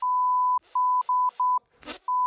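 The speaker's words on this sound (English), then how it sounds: "you beep out the swear words in this podcast" Repeated loud censor beeps in a podcast, a steady electronic tone cutting in and out over conversational speech, with short gaps where faint talk shows through between the bleeps.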